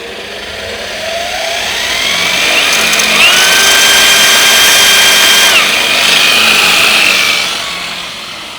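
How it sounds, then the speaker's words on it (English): A tungsten electrode for TIG welding is spun in a drill against a bench grinder, the motor whine rising and falling in pitch over several seconds as it is sharpened, loud and close with no talk. "put it on the bench grinder and spin the drill and you get a nice, quick, consistent, sharp point"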